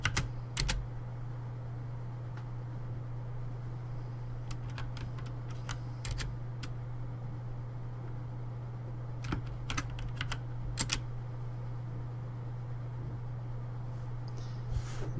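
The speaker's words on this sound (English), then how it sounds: "Now let's see if I remember the password I typed." Someone types a password on a computer keyboard: a few quick, close clusters of crisp key clicks separated by pauses, over a steady low electrical hum, with no talking.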